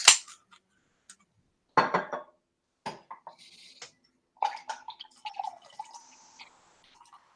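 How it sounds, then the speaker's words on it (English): A drink is stirred with sparse, soft clinks and liquid taps in short irregular bursts, separated by quiet gaps. "give that a little stir"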